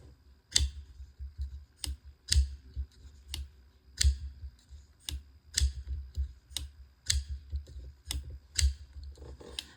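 Liner lock folding knife flicked open and snapped shut again and again, giving sharp, close metallic clicks at a steady, quick rhythm about every half second with no voices.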